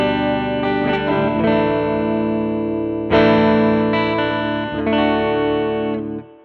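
Clean electric guitar chords from a Squier Contemporary Active Starcaster on the neck pickup, tuned to drop D, ring out, strummed a few times with sustained notes in between, bright and close.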